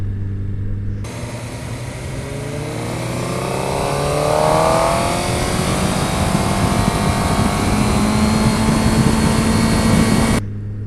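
A Suzuki Hayabusa motorcycle pulls away and accelerates, its engine rising from a low idle into a loud, climbing rev with sweeping pitch, then settling into a steady strong drone.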